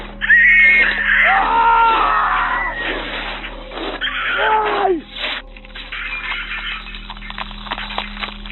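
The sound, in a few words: screams of a man and an intruder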